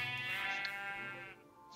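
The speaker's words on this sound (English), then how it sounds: "I won't kill these sheep." A sheep in Minecraft gives a single wavering bleat, close and fairly loud, trailing off over about a second with faint game ambience behind it.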